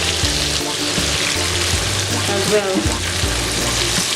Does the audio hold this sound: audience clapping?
no